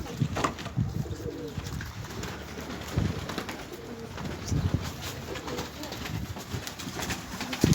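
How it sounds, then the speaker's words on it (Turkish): Pigeons coo softly and repeatedly, low murmuring calls overlapping at a distance, with faint outdoor noise throughout. "Çok kuş var ya."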